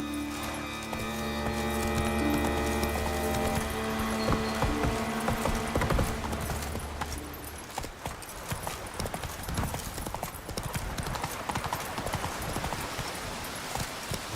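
Roach, the horse in The Witcher 3: Wild Hunt, galloping with rapid, continuous hoofbeats that grow denser after the first few seconds, loud and close over a droning musical score.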